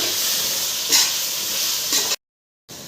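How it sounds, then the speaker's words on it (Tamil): Chopped tomatoes and onions sautéed in a pan for a mutton biriyani side dish, a loud steady hiss of frying with two brief scraping stirs, cut off by a short silence before the sizzle resumes. "பாருங்கள், தக்காளி போட்டு நல்லா வதக்கி விட்டுட்டோம்"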